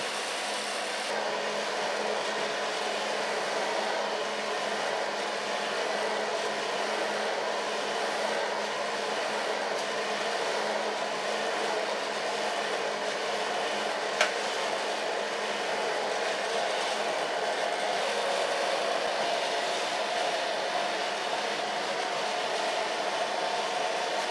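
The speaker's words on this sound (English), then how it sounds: "So far blow drying." A hair dryer blows steadily on a short asymmetrical pixie haircut, a loud continuous rushing whoosh that holds for the whole stretch with no talk.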